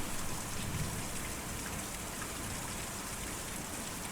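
Steady rain pours down across a quiet scene in the video game Kentucky Route Zero, a dense even hiss of drops on surfaces with no break, heard alone.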